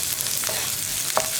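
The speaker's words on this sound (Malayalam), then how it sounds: "പച്ചമുളകിൻ്റെയും ആ റോ ടേസ്റ്റ് ഒന്ന് മാറി വരുന്നത് വരെ ഒന്ന് ഇളക്കി കൊടുക്കുക." Green chillies and onions frying in a pan while being stirred: a steady close sizzle throughout with a couple of brief scraping strokes of the spoon, no talking.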